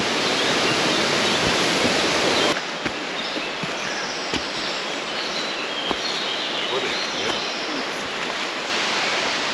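The Skakalo waterfall on Durmitor, fed by cold snowmelt, roars as a dense, steady rush of falling water, close and continuous throughout.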